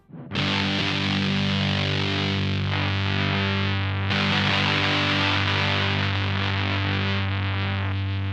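Bass guitar runs through a Tym Guitars Black Mud fuzz pedal with the mids switch engaged, a thick, loud, continuous distorted tone sustained throughout with a brief break in the middle.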